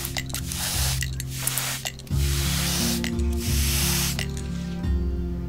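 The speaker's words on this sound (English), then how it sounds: "Then spray with a misting of water." A spray bottle mists water onto a freshly potted Christmas cactus cutting, a series of close, crisp hissing spritzes in quick repeated bursts over a low background hum.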